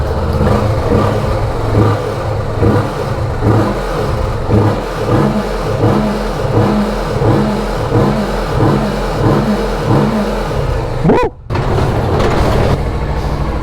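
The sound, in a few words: Kawasaki Vulcan S motorcycle engine revving while riding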